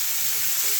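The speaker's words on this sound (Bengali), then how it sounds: "পেঁয়াজটাকে এবার আমি ভালো করে ব্রাউন কালার করে ভেজে নেব।" Onions fry in a pan until brown, with a brief, steady, close-up sizzle and soft crackle that plays alone, without any talking.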